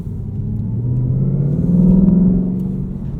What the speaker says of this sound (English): you'll get a chance to hear it. This has the active exhaust.